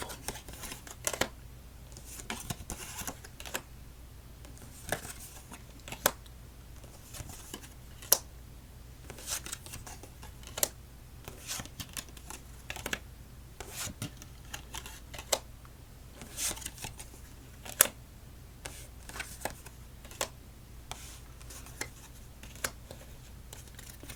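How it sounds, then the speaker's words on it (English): Playing cards being shuffled at a solitaire table, quiet close-up riffles and sharp card snaps recurring irregularly over a soft background hiss, with no talk. "let's stack it up and move on to our victory shuffle"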